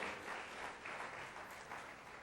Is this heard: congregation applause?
yes